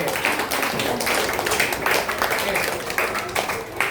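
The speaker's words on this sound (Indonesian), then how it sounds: "Berikan tepuk tangan teman-temannya" Classmates clap together in an elementary school classroom, a steady, fairly loud patter of many small hands that fills the whole moment, with a voice faintly under it.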